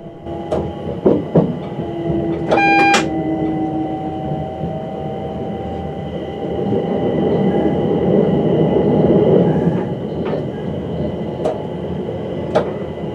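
Train running along a North and West London rail line past the North Pole Depot gates, cab view: steady rolling rumble of wheels on track with clanks and brief high squeals, a swelling roar midway.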